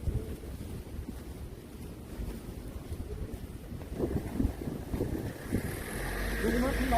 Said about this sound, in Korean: 오늘 바람 부네요